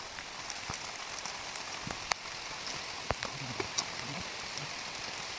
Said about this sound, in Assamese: বৰষুণটো বহুত জোৰকৈ পৰিছে